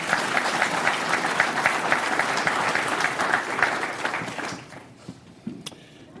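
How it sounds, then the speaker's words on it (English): Banquet audience claps for the speaker's parents at a football hall of fame induction dinner, dense sustained applause filling the room for about four seconds before thinning to a few scattered claps and quiet. "Can y'all clap it up for them for a second?"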